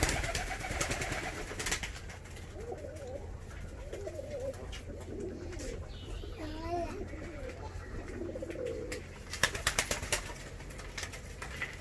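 Arab fancy pigeons coo softly in a coop in repeated low, rolling phrases, with a few wing flaps, while people talk nearby.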